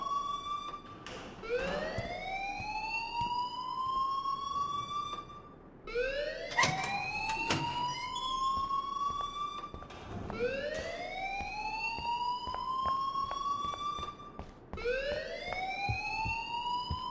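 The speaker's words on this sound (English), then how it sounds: "please turn off that alarm since that's your job" In the video game Life is Strange, an alarm rings in a looping electronic siren: rising whoops that sweep upward and repeat about every four seconds, steady and fairly loud, with no talk over it.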